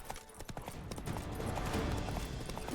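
Horse galloping in The Witcher 3 video game, rapid rhythmic hoofbeats that start uneven and settle into a steady, dense clatter, fairly close and moderately loud.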